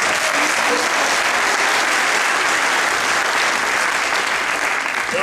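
Audience applause at a concert: dense, loud, continuous clapping from a large crowd, steady throughout with no pauses.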